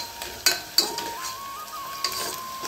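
Garlic slices stirred into pigeon pea rice in a hot pan, giving a soft sizzle beneath a few sharp scraping clinks of a spoon against metal, close and fairly loud, with no speech.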